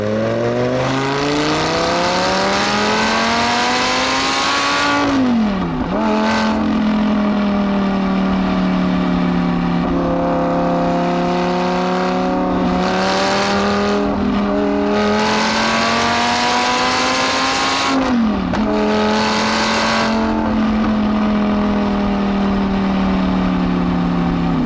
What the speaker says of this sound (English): let's give you a little bit of that antisocial racket